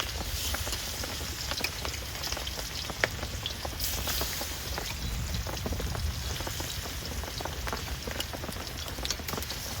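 Rain falls steadily in a constant hiss, dotted with sharp crackling pops close by from food frying in mustard oil in a wok.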